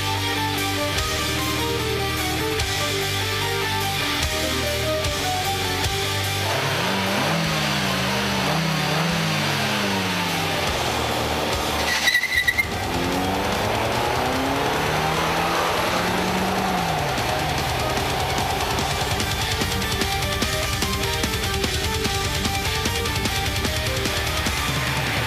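Car engines roar as rivals launch from a race start, one with an automatic and one with a manual gearbox, rising in pitch through the gears with a brief gap mid-run; the sound is loud and continuous and no one speaks.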